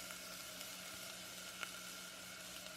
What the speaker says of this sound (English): It is nice to have that sizzle